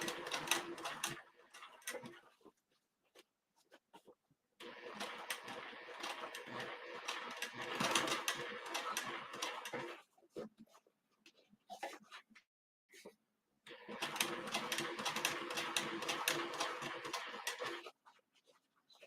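A sewing machine stitches a seam on a small snap pouch, running slowly in several bursts of a few seconds each with brief pauses between, close and moderately loud.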